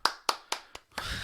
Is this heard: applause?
yes